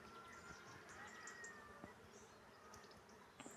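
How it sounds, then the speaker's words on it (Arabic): Bees foraging on a carob tree fill the air with a soft, continuous buzzing hum, quiet and steady, with a few faint insect passes and distant bird chirps. "هدير النحل."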